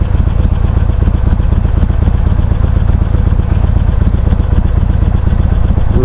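A Harley-Davidson 883 motorcycle engine, recorded up close, idles in a loud, steady, throbbing rumble with an even rapid pulse and no pauses.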